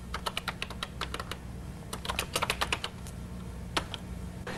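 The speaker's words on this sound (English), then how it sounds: "Answer the computer's question by typing in your name and pressing the enter key." Fingers type a name on a Color Computer keyboard in short bursts of crisp plastic key clicks, with brief pauses between groups and a final firmer keystroke near the end; no voices.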